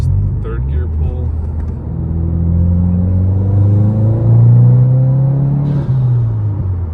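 A 2022 Subaru WRX with a Perrin charge pipe, ETS cold air intake and top-mount setup pulls hard in third gear. Its engine note climbs steadily in pitch and loudness from inside the cabin, then eases off.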